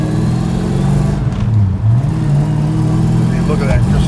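A 1970 Dodge Super Bee rumbles out of a driveway, its V8 close and loud with a brief rev swell in the middle, while people talk over the engine.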